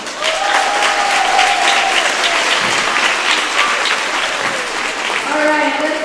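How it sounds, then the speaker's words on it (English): A crowd at a high school senior recognition event gives sustained loud applause for a graduating senior athlete, steady throughout with some cheering whistles and voices mixed in. "Let's hear it for the pool diving, court crushing, law school bound superstar, Riley Pasolka."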